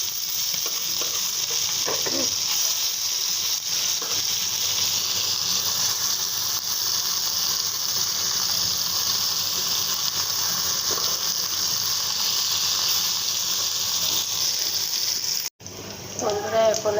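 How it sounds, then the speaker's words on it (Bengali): Fish sizzles and crackles steadily in a hot frying pan while the pieces are flipped, a dense, even hiss that holds throughout before a brief voice near the end. "এখন আমি মাছগুলো উল্টিয়ে নেব।"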